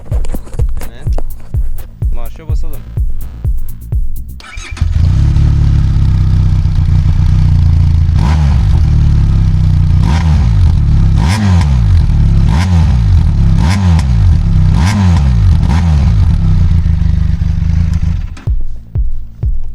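A 2024 Benelli TRK 502 X two-cylinder motorcycle engine starts up close, idling with a deep burbling exhaust and repeated sharp revs, then cuts off near the end.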